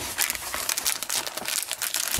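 A crinkly packet is handled while cooking, with quick bursts of crumpling and rustling close by, irregular and fairly loud.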